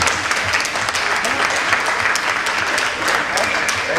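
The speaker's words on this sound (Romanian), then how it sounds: "O să vă rog să mă aplaudați" Loud, close applause fills a music and poetry show, an audience clapping steadily and densely without pause for the whole stretch.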